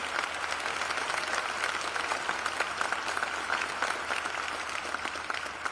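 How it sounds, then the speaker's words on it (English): An audience at a city State of the City address claps for one another, a sustained, fairly soft patter of many hands heard from a distance with a steady, even texture and no pauses. "You guys clap each other"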